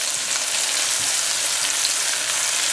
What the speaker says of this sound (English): We're going to fry this up for a little bit.